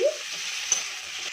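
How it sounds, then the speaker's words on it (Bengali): Tomatoes fry on a medium gas flame for a vegetarian cabbage dish, giving a soft, even sizzle with one light scrape of a stirring spoon and no talk. "গ্যাসের আঁচটা মিডিয়ামে করেই আমি টমেটোটা কষিয়ে নিচ্ছি।"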